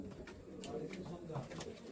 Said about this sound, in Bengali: দেখুন এইসব পায়রাগুলো